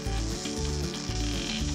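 Condensed milk warming in a pan over low heat, giving a steady sizzling hiss that runs throughout, with a low rhythmic tonal pattern underneath.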